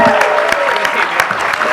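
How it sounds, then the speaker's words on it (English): An audience at a hip hop and politics event claps for Congressman Carson, a brief burst of loud, close applause with some crowd voices underneath. "Round of applause for Congressman Carson."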